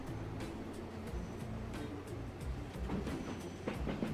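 A freight train rolls along in the Transport Fever rail simulation game, a low continuous rumble with rhythmic clacking of wheels over rail joints, steady and fairly quiet with no talk.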